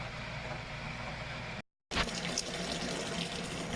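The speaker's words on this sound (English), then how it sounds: "draining off the first of the mash water of the American Porter" Water pours and gushes steadily as the first mash water of a dark American Porter drains during homebrewing, with a brief gap before the flow resumes loudly.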